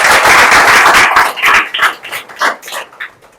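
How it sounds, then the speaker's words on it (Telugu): An audience at a motivational talk for software students claps loudly and densely, then the applause thins into scattered claps and fades out. "సో మీ దినేష్ సార్ కూడా గట్టి క్లాప్స్ కొట్టాలి"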